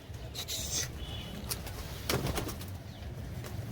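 Pigeons coo softly in the background amid scattered rustling and a few sharp clicks, with occasional wing flutters.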